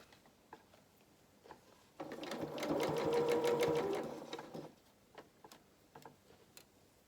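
A sewing machine stitches gathered frills for children's shorts and dungarees, running steadily for about three seconds with a rapid ticking rhythm, then stopping; quiet handling noises before and after.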